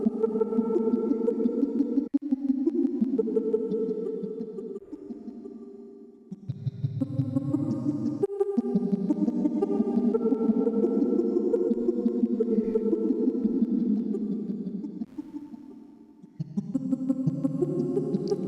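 Sustained synth tones processed through the Unfiltered Audio Silo granular plugin's reverb, smeared, shimmering pads that overlap and drift in pitch, with brief dips and swells between phrases and no talking.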